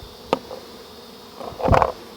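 Honeybees from a beehive rescued out of a condemned building, buzzing briefly in a short burst near the start and a louder, fuller swell of buzzing toward the end.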